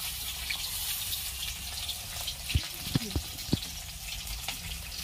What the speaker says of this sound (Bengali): এবার সমস্ত বড়গুলোই ভেজে নিতে হবে।